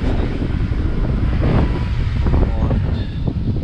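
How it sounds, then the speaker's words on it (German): Gusty, cold wind buffets the microphone on a motorcycle tour in Thailand from Nong Khai to Petchabun, a loud continuous roar with surging rushes over the running ride. "Kalter Wind"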